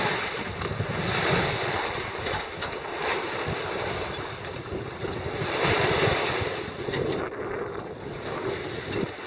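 Wind roars steadily over open sea off Cape Hatteras aboard a motoring boat heading straight into it, mixed with waves and buffeting microphone noise, loud and continuous with no talk.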